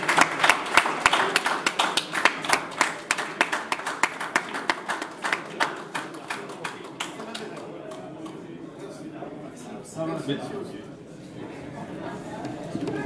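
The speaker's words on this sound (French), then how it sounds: "je vous demande encore d'applaudir cet acte" An audience at a Congolese opposition political conference in Genval, Belgium applauds with loud, crisp, rhythmic hand claps that gradually thin out and fade as voices and speech take over toward the end.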